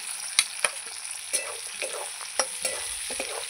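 Onion and potato frying in a pan with a steady sizzle, punctuated by sharp clinks and scrapes of a spatula stirring at irregular intervals, close up and with no voices.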